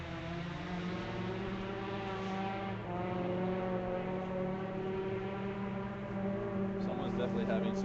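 A rally car engine labors in woods during the 2013 Sandblast Rally, SS1 Hunters Pond Reverse, a distant continuous droning whine that holds steady with slight pitch shifts, with a voice talking over it.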